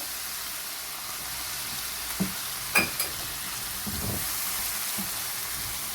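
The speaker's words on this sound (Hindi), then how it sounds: "देखिए मसाले को हम भून रहे हैं, मटरों को" Green peas and spices fry in a pan for matar pulao, a constant close sizzle with a few scraping stirs and soft knocks of a spoon breaking through.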